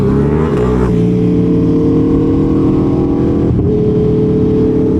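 Aprilia Tuono V4 1100 Factory motorcycle engine, likely a V2-engined bike nearby, idling loudly and revving up and down in steady surges with a brief dip near the end, close and continuous.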